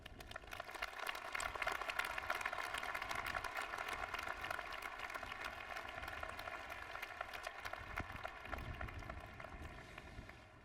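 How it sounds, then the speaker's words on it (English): A large commencement crowd at the University of Washington applauds honored teachers, a sustained, even wash of distant clapping that holds steady throughout and eases slightly at the very end. "Please join me in applauding these exceptional teachers"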